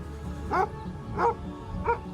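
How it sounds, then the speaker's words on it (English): A dog barks three times at an even pace, sharp and fairly close, over a low background rumble, sounded from a small van in a travellers' lane in Bristol. "She's got a special bark for traffic wardens."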